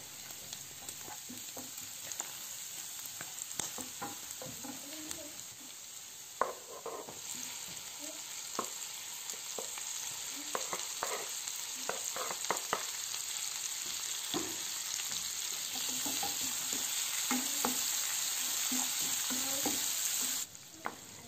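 Garlic and small pieces of heart sizzle and fry in a pan, a steady crackling hiss running throughout with frequent stirring scrapes and clicks, close and moderately loud, with no talking.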